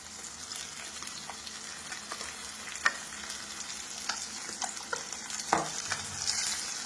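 Green chillies dropped into a frying village-style fish curry of muluguchepa, with a steady close sizzle and occasional stirring clicks and scrapes throughout.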